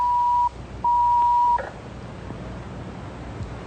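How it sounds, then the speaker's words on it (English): A telephone beeps in an old sci-fi film, two steady electronic tones, the second longer, followed by a quiet room hum. "It's the Jan Brady phone"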